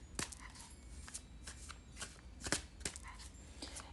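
A deck of tarot cards is riffled and shuffled close by, soft papery flutters broken by crisp slaps and snaps in an irregular rhythm, quiet and with no talking.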